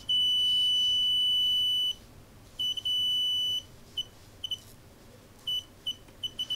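A piezo buzzer on a 5-volt sensor module gives a shrill, piercing tone, first one long beep, then shorter bursts and a run of quick chirps as detection triggers, close and loud with no talking.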